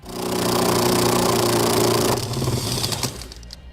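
A power tool whirs steadily and loudly at close range while backing out 18mm seat bracket bolts on a 2013 Jeep Wrangler, then cuts to a rougher, uneven rattle before fading out.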